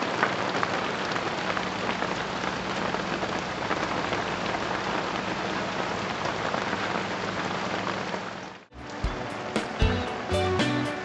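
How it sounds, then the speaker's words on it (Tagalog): Steady, dense rain patters hard on a surface outdoors, a continuous close hiss, during a harvest of regrown landong in an oranda fish setting. Near the end it is broken by a few sharp knocks and handling sounds. "So habang umuulan"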